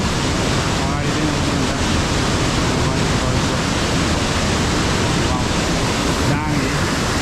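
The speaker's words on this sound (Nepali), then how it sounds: "झरना वाउ ऐना झरना हैन" The Ayena waterfall roars with a steady, broadband rush of falling water, loud and unbroken from start to finish, close to the listener.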